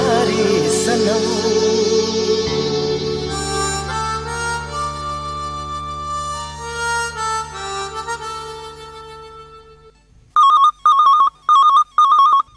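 A telephone rings for a Hindi radio phone-in request show: film music fades out, then a loud, close electronic ring sounds in four evenly spaced bursts.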